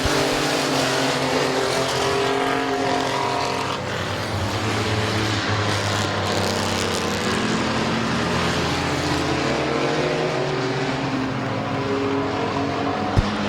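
Race cars roaring around the final lap at Midvale Speedway, a loud continuous engine drone with shifting pitch as the pack passes, dense and steady throughout.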